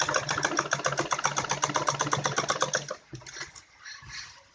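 A sewing machine stitches a child's long gown hem around the flare, a rapid, evenly pulsing clatter up close that runs for about three seconds, then breaks off into sparse, quieter knocks.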